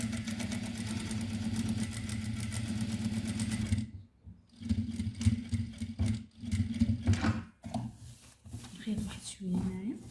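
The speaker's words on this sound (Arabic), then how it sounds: "نقادو هادو مزيان ونخيطو دابا عادي" Sewing machine stitching kitchen apron fabric, a steady mechanical hum and needle chatter running for several seconds, then resuming in shorter uneven bursts with pauses, a voice speaking over parts of it.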